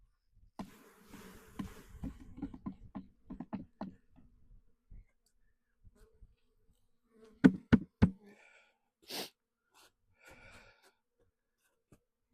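Agitated honeybees buzz after being shaken off a frame into a new box, coming as scattered short drones and a few louder close bursts with quiet gaps between.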